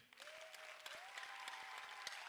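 Audience applause at a comedy festival show, a steady wash of many hands clapping with a faint whistle or cheer riding over it, fairly quiet and distant.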